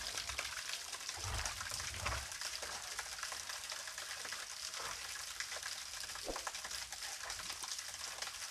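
Water splashes and gushes steadily as it drains out of a galvanized iron pipe on a ram pump, a continuous hissing pour with no talk over it.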